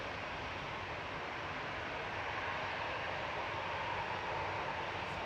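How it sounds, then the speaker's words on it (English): An Embraer ERJ145 jet arriving from Aberdeen at Manchester Airport in the evening makes a steady, distant broadband roar of engine and air noise, even in level and unbroken throughout. "Coming in from Aberdeen, SAJF this evening, ERJ145"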